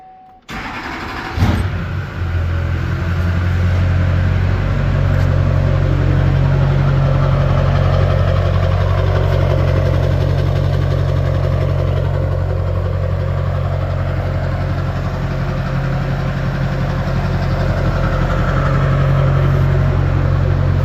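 A Duramax diesel truck with an aftermarket exhaust cranks and fires up, then settles into a loud, steady, deep idle rumble that holds for about twenty seconds with no one speaking.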